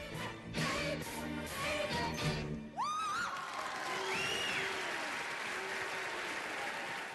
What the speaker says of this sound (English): we were getting the applause we deserved. And you hear the then cheers